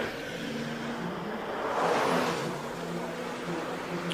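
An Audi race car accelerates hard up a hillclimb course during a supercar shootout, its engine note swelling to a loud peak mid-run and then holding a steady, close roar.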